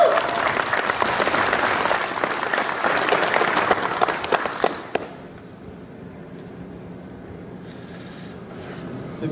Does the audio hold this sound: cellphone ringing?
no